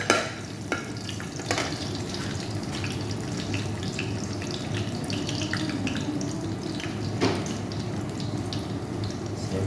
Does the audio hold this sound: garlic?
yes